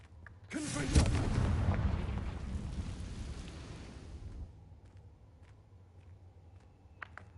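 A Confringo fire spell detonates in Hogwarts Legacy gameplay, one loud explosive blast with a deep rumbling boom that rolls on for several seconds before fading, followed by faint scattered clicks.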